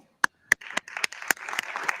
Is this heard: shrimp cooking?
no